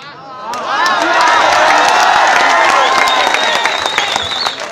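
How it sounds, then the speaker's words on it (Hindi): A live audience at a Hindi patriotic poetry recital bursts into loud, sustained applause with cheering and whoops, dense clapping filling the room for several seconds. "तालियां उतनी उठे कि यहाँ से इस्लामाबाद पहुंचे"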